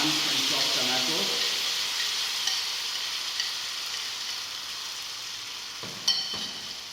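Blanched, chopped tomatoes land in a pan of sautéing chopped garlic, raising a steady, loud sizzling hiss that continues throughout, with a few light stirring knocks near the end.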